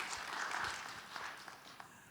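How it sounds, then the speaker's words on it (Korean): An audience at a church district meeting gives brief, soft applause, a patter of many hands clapping that fades quickly. "우리 예배부 수고하셨다고 여러분 큰 박수 부탁드립니다"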